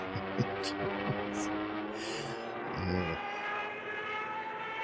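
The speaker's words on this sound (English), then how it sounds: "Then, look! Jap dive bombers!" A Japanese dive bomber's engine drones with a steady, throbbing hum and layered low harmonics, holding a continuous roar at moderate loudness throughout.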